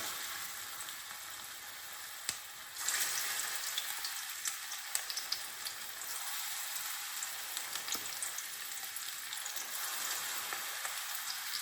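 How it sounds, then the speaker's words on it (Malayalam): Egg and onion bajji balls fry in hot oil, a steady bright sizzling hiss with small pops and a couple of sharp clicks as pieces are dropped in, no one speaking. "ചൂടായ എണ്ണയിലേക്ക് നമുക്ക് ഈ ഉരുട്ടി വെച്ചത് ഓരോന്നിട്ട് കൊടുക്കാം"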